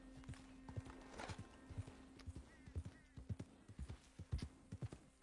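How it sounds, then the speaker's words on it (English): Horse hooves clip-clop in a steady walking rhythm inside a video game, close and fairly soft, with faint low ambient game sounds around them. "So, like, my horse is acting up."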